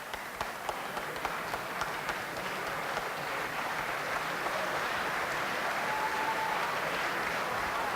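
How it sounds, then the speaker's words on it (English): A crowd at a doubles pool match applauds a shot: steady, dense clapping sustained for several seconds at moderate distance, with no talk over it. "Even a knowledgeable crowd showing their appreciation of that shot."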